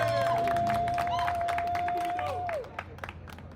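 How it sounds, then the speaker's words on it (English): Crowd at a Ugandan patriots day gathering in Boston claps and cheers while a sustained whistle-like tone rings over them, the noise dropping off sharply before the end. "Give a round of applause"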